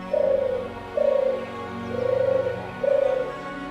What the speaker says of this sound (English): Close by, turtle doves are gathering seeds to replenish their energy.